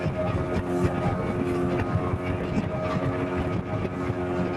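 A fishing boat speeds across the sea off Mathagal, its motor droning steadily under strong wind rush and splashing water, loud and close throughout.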